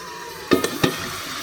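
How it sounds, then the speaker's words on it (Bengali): Cauliflower frying in a pan sizzles quietly, then a few sharp scrapes and clacks of stirring stand out near the middle before the frying settles back into a low hiss. "এখানে হচ্ছে ফুলকপি ভাজা আমার"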